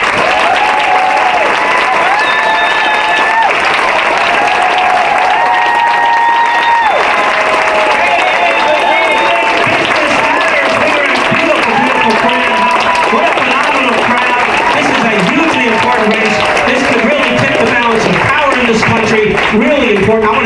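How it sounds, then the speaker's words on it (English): An audience at a televised political debate claps steadily, with a few cheers in the crowd, while music plays over it and a voice speaks during the second half. "And start clapping, everyone."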